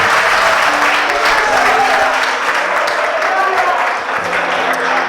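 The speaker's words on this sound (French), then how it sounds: "Le voici, si vous applaudissez." Steady audience applause fills a general assembly hall as an association officer is introduced, dense and continuous clapping throughout with a faint voice underneath.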